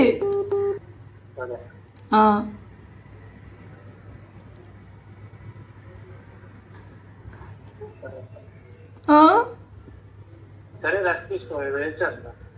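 A few separate bursts of phone keypad tones spaced across the clip, with a low steady hum filling the quiet stretches between them.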